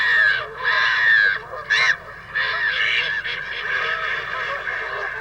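Wild ducks and gulls driven into St James's Park, London, by hard winter weather call repeatedly in overlapping honking and squawking bursts, fairly close and loud, a dense flock chorus with brief pauses.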